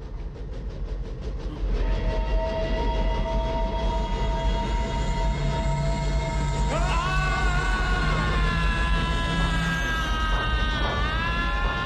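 A train rumbles steadily through a tunnel nearby with a continuous low roar, metallic squeals and tonal screeches rising and bending through the passage, no voices.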